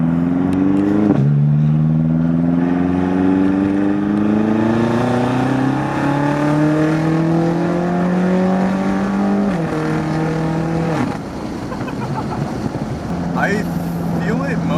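A loud BMW F13 M6 engine with a Bootmod3 Stage 2 tune, about 700 hp, revs hard close by, its pitch climbing in long sweeps and dropping between pulls, with a voice speaking near the end.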